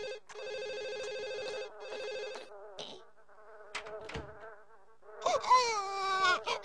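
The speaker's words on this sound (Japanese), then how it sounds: "あ、電話や。" An in-game telephone rings in buzzy, tonal electronic bursts, two long rings and then shorter ones, quiet and close, ending in warbling electronic tones with no voices.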